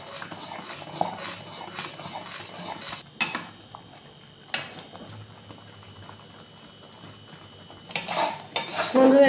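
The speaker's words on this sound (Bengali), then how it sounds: "এটা অনবরত নাড়িয়ে যেতে হবে, কেননা নিচ দিয়ে লেগে যাওয়ার একটা ব্যাপার থাকে" A spoon scrapes and clinks against a pan while palm-pulp kheer is stirred, with bursts of metallic scraping around a low bubbling simmer and quieter stretches between strokes; no talking.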